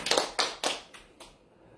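A small church congregation claps hands during a sermon, about five sharp claps in an uneven rhythm that fade in strength toward the end, with no talking over them.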